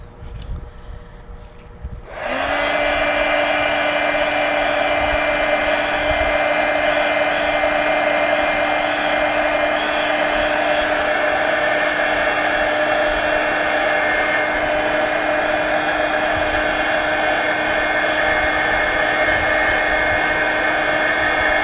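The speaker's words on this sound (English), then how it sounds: "let me hit them with the heat gun real quick" A heat gun switches on after a brief quiet moment and runs as a loud, steady whirring blast, drying mixed media collage art cards continuously until the end.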